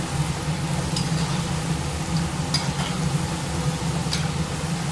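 Seedai dough balls deep-frying in hot oil for a Krishna Jayanthi snack, a steady soft sizzle and bubbling hiss with a few faint clinks, continuous and close, no one speaking.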